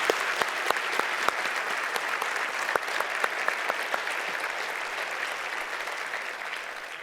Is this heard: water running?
no